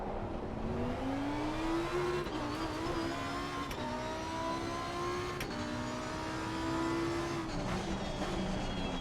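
A race car engine in a racing video game, the Challenger DLC cars at Donington, droning steadily with pitch rising and dropping through quick gear changes, brief clicks marking shifts.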